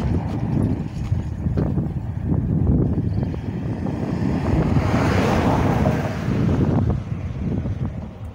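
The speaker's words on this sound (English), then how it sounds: "but it's windy at the same time" Steady wind gusting across a Jamaican beach at Lucea, Hanover, with surf rolling underneath; a continuous, loud, roaring wash with no voices.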